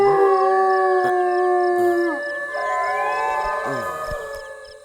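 A dog howls at night in long, mournful, wavering cries that bend and slide in pitch, loud and close, with no voices over it.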